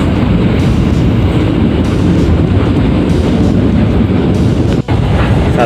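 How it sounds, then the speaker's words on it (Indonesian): Loud, continuous rumble and roar of the Sawunggalih passenger train passing close by on the Indonesian railway, a steady rushing clatter that lasts the whole time, broken once by a brief sharp dropout near the end. "Kita bertemu kereta api Sawunggalih"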